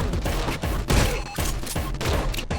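Enemies fire guns in the first-person action game Anger Foot, a dense, loud fusillade of repeated shots and bursts running continuously through the short stretch, with no speech over it.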